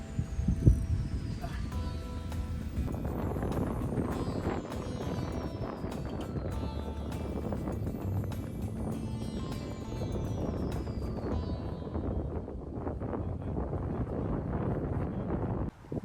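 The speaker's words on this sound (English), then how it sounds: "As you can tell, it was a very windy day." Steady wind roars and buffets across the microphone throughout at a lakeside fishing match, with low rumbling gusts and faint background noise.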